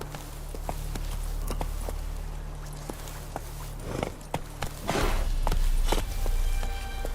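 Hooves of Roach, the horse in The Witcher 3, clop along at a steady trot, fairly close, over a low droning game backdrop with a brief louder rushing swell near the end.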